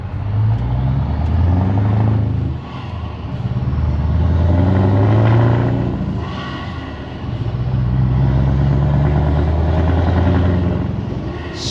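A Scania R500 V8 truck with a loud exhaust rumbles deep and close, climbing in pitch through repeated pulls. Brief dips between the pulls sound like gear changes.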